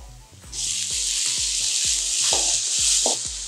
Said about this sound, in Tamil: நம்ம வேக வச்சு வச்சிருக்கிற பீன்ஸை அதோட மிக்ஸ் பண்ண போகிறோம்.